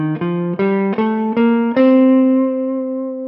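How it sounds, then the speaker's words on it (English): Clean electric guitar plays a C Dorian scale ascending, five distinct picked notes stepping upward in quick succession, the last note ringing out and slowly decaying; no talking. "So this is what C Dorian sounds like."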